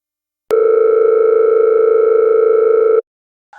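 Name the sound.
telephone call tone in animated film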